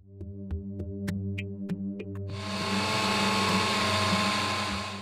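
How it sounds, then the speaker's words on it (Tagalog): A kitchen blender starts up partway through, blending food for a tube-fed meal, with a few light clinks and knocks beforehand, then a loud, steady whirring roar that continues to the end. "Ang pagkain ni Josel, kinakailangang i-blender"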